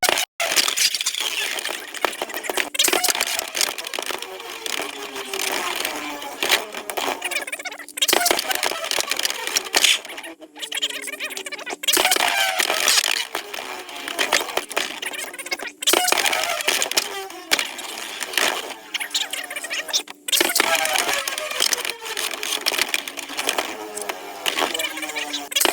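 Beyblade spinning tops launched into a stadium and battling, a continuous bright metallic whirring and grinding broken by sharp clacks of collisions and short pauses, close and loud.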